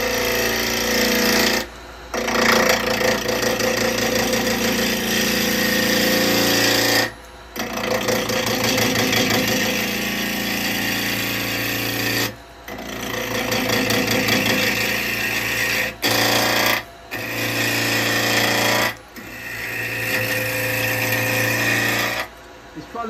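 A wood lathe spins a workpiece for a Halloween cauldron smoker while a half-inch spindle gouge cuts into it, giving a loud, steady whirring and scraping roar that stops briefly several times between cuts.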